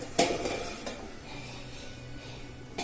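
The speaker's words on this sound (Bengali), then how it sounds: "আমি এবারে ঢাকনাটা খুলে দেখব কেমন হয়েছে কুকটা।" Lid lifted off a cooking pot of chana dal pulao, with a sharp metallic clank near the start, another lighter knock, then quiet kitchen ambience and a final small clink.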